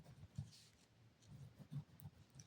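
A hand writes out the answer to a class 7 maths problem on comparing quantities. Faint, close scratching strokes come in short bursts against a quiet background.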